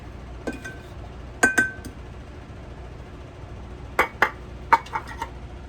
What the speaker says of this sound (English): I'm going to take just an ordinary glass, just kind of press it in the center and up on the sides.